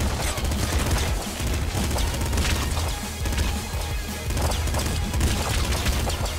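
Rapid weapon fire in the game Nuclear Throne comes as a dense, loud, continuous barrage of shots, crashes and booms with no pauses.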